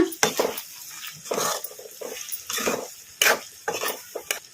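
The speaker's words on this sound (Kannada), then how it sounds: "ನುಗ್ಗೆಕಾಯಿ ಒಂದು ಸ್ವಲ್ಪ ಎಣ್ಣೆಗೆ ಫ್ರೈ ಆಗಿದಾವಲ್ಲ" Drumsticks frying in a little oil, stirred in a pan with repeated scraping and clattering strokes against the metal over a soft sizzle, close and uneven in rhythm.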